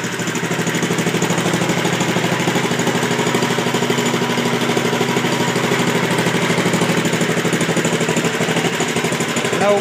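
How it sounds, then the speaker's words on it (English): A Wheel Horse C-160 garden tractor's small engine idles steadily and loudly for the whole stretch, with no belt fitted, a constant low rumble with a fast, even chug and no voices. "I didn't want to have to fight with that and the engine, but it fired right up."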